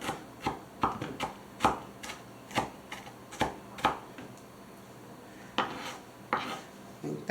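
Food being chopped very finely for meatloaf in a home kitchen, heard as a series of sharp, close knife taps on a cutting board in an irregular rhythm, with no talking.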